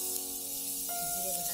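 Chopped onion hits hot oil for a Bengali vegetarian spiny gourd curry, giving a steady, bright sizzle that holds evenly throughout over a faint low hum.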